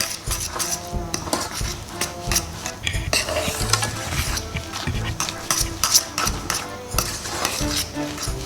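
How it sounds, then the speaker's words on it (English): Plain flour being stirred into a Napoleon cake mixture in a bowl makes busy, close scraping and knocking of a utensil against the bowl in an uneven rhythm, with no talk. "give that a really nice stir so it's all well incorporated"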